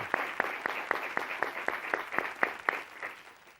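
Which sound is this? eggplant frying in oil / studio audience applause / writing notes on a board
studio audience applause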